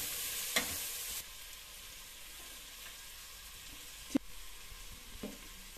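Oil frying in a pan while cooking chicken biryani, a steady broadband sizzle with a couple of sharp spatula clicks, moderately close and heard alone.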